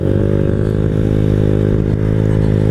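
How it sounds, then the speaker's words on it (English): Honda Ruckus scooter ridden off-road across grass, its small engine droning loud, close and steady with a constant buzzing tone throughout and no talk. "I'm driving a dirt bike in the grass."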